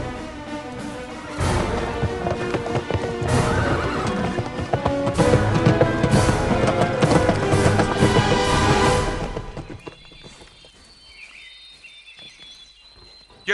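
A horse whinnies loudly over a bed of dramatic music while hooves clip-clop, then the music drops away and quieter hoofbeats and insect-like chirping carry on.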